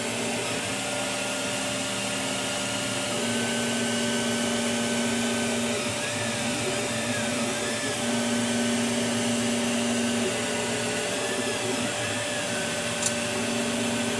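A Creality CTC10S 3D printer lays down its first line, a steady close mechanical whir with tonal stepper-motor hums shifting in pitch and brief rising sweeps, running continuously with no talking.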